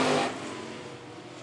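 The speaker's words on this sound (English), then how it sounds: "Top three cars now pulling away from the rest of the field." Stock cars race on the dirt track at Phillips County Raceway, with a brief engine roar that fades as the cars pull away into a steady mid-distance drone.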